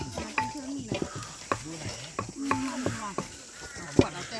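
Food is stir-fried in oil in a pan outdoors, with repeated scraping stirs and clinks of a utensil against the pan over a soft sizzle, while voices chatter faintly in the background.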